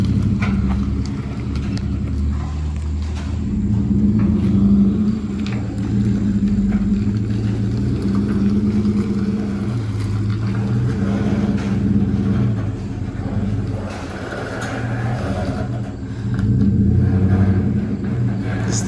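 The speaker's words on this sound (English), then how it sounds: "The first coupe is getting backed in right now, and we're gonna put it in here." Acura Legend coupe being slowly backed into a garage, its engine giving a steady low idle rumble throughout with faint surges near the start and end, close by and heard alone without talk.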